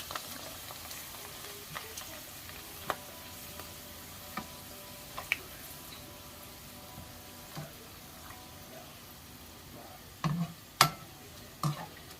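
Hot oil, already used for frying chili peppers, sizzles and crackles steadily as kelp fries, with sharp pops and ticks now and then, louder clusters near the end.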